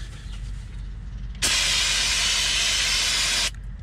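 A loud, sustained hiss of an aerosol cleaner spray on a 1999 Porsche Boxster's rear brakes bursts on and runs for about two seconds before cutting off abruptly.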